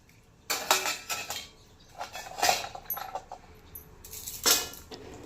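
Metallic clinks and scrapes ring out as pistachios are dropped into a pan and stirred while dry fruits roast for laddu, in a few separate bursts, close and moderate.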